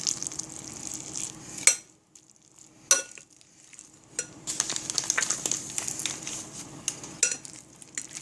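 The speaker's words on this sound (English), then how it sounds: "เรามาเริ่มคนกับข้าวเหนียวกันเลยค่ะ ข้าวเหนียวมวนคนให้ทั่วๆนะคะ" A spoon stirs sticky rice with coconut milk in a pot, giving wet scraping and clacking strokes at an uneven rhythm with short pauses between bursts, close and fairly loud.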